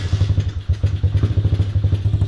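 Motorbike fitted with a custom-built exhaust pipe running loud and close, a rapid, lumpy pulsing beat throbbing steadily throughout with clattery mechanical knocks on top.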